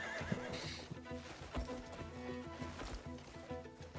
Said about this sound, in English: Hold on until the end to tame the horse.